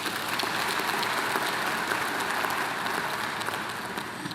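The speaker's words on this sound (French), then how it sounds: "Je voudrais que nous puissions les applaudir." Applause at a televised political gathering, a dense steady patter of clapping that holds for several seconds and fades slightly at the end, with no speech over it.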